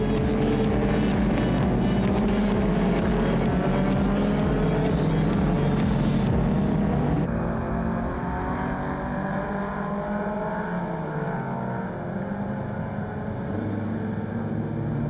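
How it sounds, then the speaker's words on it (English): A Ford and a Datsun race car climb a hill in a loud engine roar, revving hard with gear changes and then fading as they pull away into the distance. "Ford versus Datsun. This time round, the Ford has the advantage."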